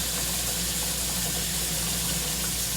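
Water gushes steadily from a tap into the tank of a Bissell Big Green carpet cleaner, a constant loud hissing rush with no other sounds.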